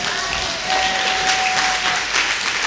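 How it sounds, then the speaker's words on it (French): Congregation applause during a French-language church service in Abidjan, a continuous wash of many hands clapping at full level, with a sustained tone underneath and no talk. "On applaudit le Seigneur."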